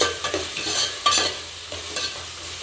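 Cashews, green chillies and onion sauté in ghee with a busy sizzle, while a spoon scrapes and stirs in quick, uneven strokes close by.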